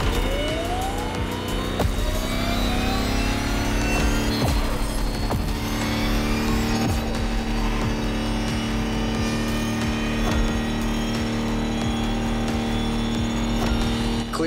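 An electric Lamborghini concept hypercar in The Crew Motorfest drives steadily with a continuous high electric whine and road rumble, rising tones sweeping up at the start, loud and close throughout with no talk.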